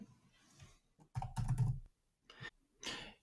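A computer keyboard clacks as an answer to a fraction question is typed, a few short bursts of keystrokes separated by pauses, close and quiet.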